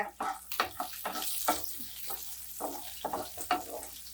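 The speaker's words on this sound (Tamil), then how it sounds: "நல்லா மீடியம் ஃப்ளேம்லேயே வச்சு நல்லா வதக்குங்க வெங்காயமும் இதுவும் நல்லா வதங்கணும்" Small and large onions with dried red chillies sauté over a medium flame in a pan for kara chutney, with soft sizzling under repeated scraping stirs in an irregular rhythm, close and fairly quiet.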